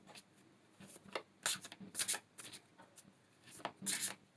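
Tarot cards shuffled and drawn by hand, a close, quiet series of soft riffling and rubbing bursts in uneven clusters, with faint background murmur.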